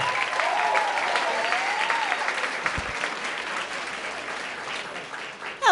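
A comedy club audience claps to welcome comedian Ophira Eisenberg, a sustained, even round of applause filling the room, with a faint voice underneath.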